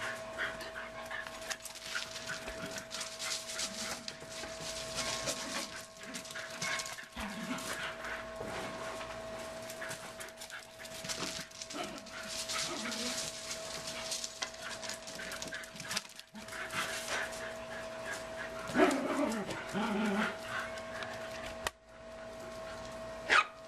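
Five-to-six-week-old puppies whimper, pant and bark among other dogs outdoors, with scattered yelps and whines over a continuous close background of dog noise.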